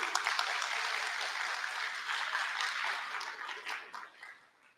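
A crowd at a conference lecture applauding steadily, dense clapping that holds for several seconds before fading out at the end.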